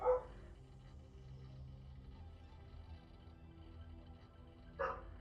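Two short dog barks from the video game Anachronox, one at the very start and one near the end, with a low steady game hum filling the gap between them.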